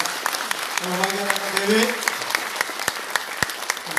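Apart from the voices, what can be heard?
audience applause at forum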